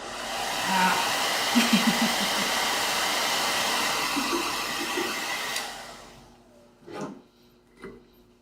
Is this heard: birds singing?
no